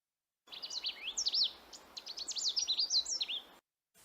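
A Canada warbler sings a rapid jumble of bright, twittering notes, one continuous burst lasting about three seconds and heard clearly and alone in a managed forest setting.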